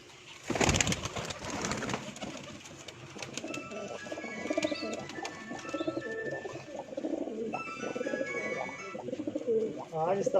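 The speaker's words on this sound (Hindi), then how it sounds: "मोतियां वाला कबूतर है जनाब, शौक करो।" Breeder pigeons on a rooftop give repeated soft, rolling coos close by, joined by scattered chirps from other birds, after a sharp clatter near the start; faint voices and background bustle run underneath.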